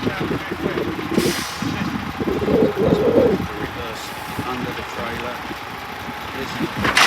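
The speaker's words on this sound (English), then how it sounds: "Reverse under the trailer." An articulated truck reverses under a trailer, its engine idling and rumbling close by, with a sharp hiss of air brake releasing and someone talking over the machinery.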